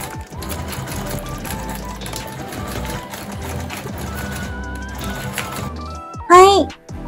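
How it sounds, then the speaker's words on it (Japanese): Sewing machine stitching a cord onto a blue IKEA bag, a close, steady rapid whirring that runs for several seconds, then stops, followed by a brief voice. "この紐を縫い付けていきます。"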